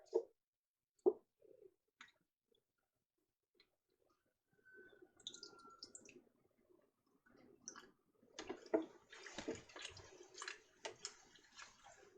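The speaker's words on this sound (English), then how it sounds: "I'm just gonna continue filling my jars with water" Water poured into glass canning jars in a home kitchen while making layered chili, a few clinks early on, then a steady close splashing pour with glassy knocks in the later half, no talking.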